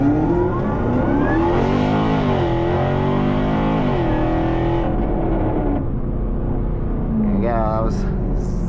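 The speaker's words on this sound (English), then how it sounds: "that was 0 to 70. So that's with the exhaust closed." A Jaguar F-Type R revs up from 0 to 70 with its exhaust closed, loud and close, with a continuous rumbling drone and pitch sweeps climbing then dropping at each shift.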